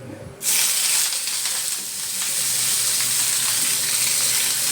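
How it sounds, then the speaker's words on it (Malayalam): Mustard seeds and shredded cabbage land in hot oil and set off a sudden loud, close sizzle that keeps going as a steady hiss with faint crackles, with no voices. "കടുക് പൊട്ടി നമുക്കിത് അതിലേക്ക് ഇടാം"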